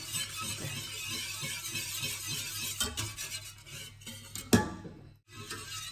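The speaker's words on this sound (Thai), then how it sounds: "แป้งเขาเอาไปคนกับน้ำแล้วนะจ๊ะเนาะ ถ้าเอามาคนกันจ้า" A spoon stirring flour paste mixed with water in a pot while making kimchi, a soft steady scraping and swishing with faint clinks against the pot, fairly quiet and close.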